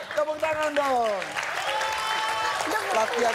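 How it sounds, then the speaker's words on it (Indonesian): An audience applauds after a children's marching band performance on a talent show stage, steady clapping running under a host's speech. "Tepuk tangan dong."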